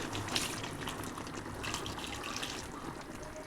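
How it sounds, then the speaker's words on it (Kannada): Water pours steadily into chicken masala in a pan, a soft continuous splashing and trickling, close but fairly quiet, with no talk. "ನೀರು ತೊಗೊಂಡು ಅಳತೆ ತಕ್ಕಷ್ಟು ಹಾಕೊಂಡು ಅವನು ಕೂಡ ಹಾಕ್ಕೊಳ್ತಾ ಇದ್ದೀವಿ ನೀರನ್ನ"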